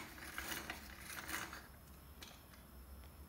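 A chrome helical planetary pencil sharpener is cranked by hand, giving soft repeated mechanical ratcheting clicks and scraping, quiet and close, in a few uneven bursts with no talking.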